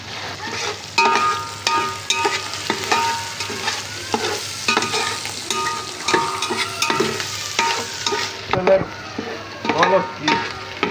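Ghee frying in a home kitchen pot for beef biryani, a steady close sizzle with repeated stirring scrapes and clinks running throughout, no talking, the crackle briefly dropping away near the end.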